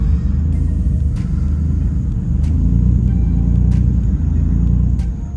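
A Nissan 350Z engine idles with a deep, uneven rumble, loud and close, with a few faint ticks over the steady drone.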